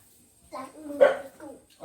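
A dog gives a couple of short, sharp barks close by, mixed with a voice.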